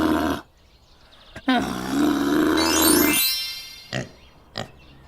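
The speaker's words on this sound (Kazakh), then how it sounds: "Түйе." A camel lets out one long, deep, guttural roaring groan lasting about two seconds, with a few short grunts before and after and quiet gaps between.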